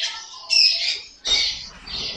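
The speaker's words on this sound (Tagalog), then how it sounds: "kinulong ko muna yung magugulo natin mga ibon" Pet birds in a cage squawking in two loud, harsh bursts, the second overlapping a lower rustle, with continuous shrill calling in between.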